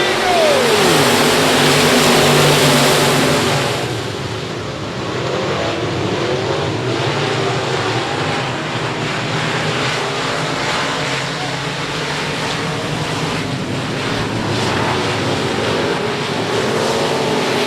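Sport Modified race cars at I-37 Speedway roar as a loud, sustained engine drone that sweeps and surges as the field gets underway, with a public-address announcer talking throughout.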